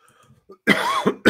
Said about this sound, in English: Sorry about the coughing, folks.